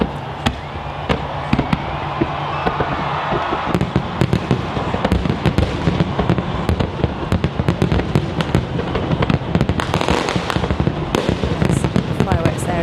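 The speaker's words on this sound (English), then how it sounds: "Fireworks there across Copacabana Beach." New Year 2023 fireworks over Copacabana Beach in Rio de Janeiro: dense, continuous cracks and bangs bursting in rapid irregular succession over a crowd roar, with a voice talking now and then.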